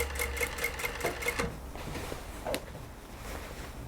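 A sewing machine back-tacks on a jacket seam during tailoring, giving a short, faint burst of rapid rhythmic stitching that slows and fades after about a second and a half.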